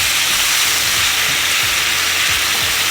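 Vegetables, mushrooms and garlic frying in a pan for pepper steak give a loud, steady hiss and sizzle with faint stirring scrapes underneath, close up and continuous, with no one talking.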